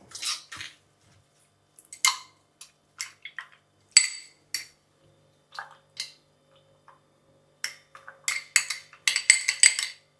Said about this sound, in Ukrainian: додаю дріжджі в молоко перемішую і чекаю, доки вони розчиняться повністю